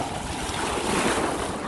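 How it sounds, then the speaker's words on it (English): Strong waves crash and churn on the rocky Lake Michigan shore under an overcast sky, a loud, continuous close-up roar of surf mixed with wind buffeting the microphone, with no talking. "That's how strong the waves are."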